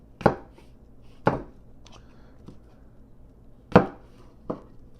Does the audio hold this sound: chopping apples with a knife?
yes